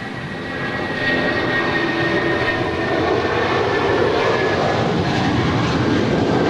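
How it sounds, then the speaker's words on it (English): A United Boeing 757-200 jet departing LAX gives a loud, steady roar of jet engines at takeoff power, building slightly over the first second and then holding close and continuous, with no talk. "2335 departing to Newark Liberty. It's a 757-200. Gone. Off into the clouds."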